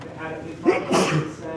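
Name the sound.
sneeze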